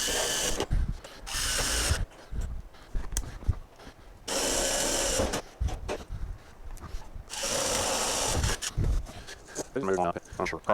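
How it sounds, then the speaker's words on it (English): Power drill boring holes in a Willys station wagon door for Clecos, three long whirring bursts of a few seconds each, separated by handling and rubbing noises and a voice speaking. "I'm going to go ahead and I'm going to drill in,"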